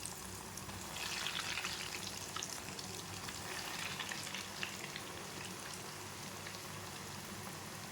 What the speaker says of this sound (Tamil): இப்போ நம்ம ஒவ்வொரு பால்ஸாக போட்டு ஃப்ரை பண்ணி எடுத்துக்கலாம்.